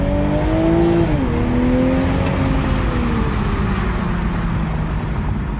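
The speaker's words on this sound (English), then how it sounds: "Give it a little bit of gas." A 2021 Toyota Supra 3.0T Premium engine revs up loudly and close by. The pitch climbs and then drops back while the engine keeps running steadily. Nobody talks.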